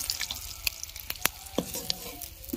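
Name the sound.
egg frying in a pan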